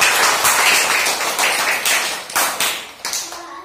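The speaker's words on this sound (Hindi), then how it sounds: "तो इन लोगों के लिए ताली बजा दो।" Schoolchildren in a classroom clap for their classmates, a dense, loud burst of rapid hand claps that keeps going throughout.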